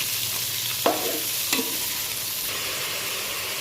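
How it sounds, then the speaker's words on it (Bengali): Onions and vegetables frying in a pan for bhuna khichuri, a bright continuous sizzle close by, broken by two sharp stirring scrapes early on, no voices. "কিছুক্ষণ পেঁয়াজটা ভাজা শেষ হয়ে গেলে সবজিগুলো কিছুক্ষণ ভাজি করে নেব"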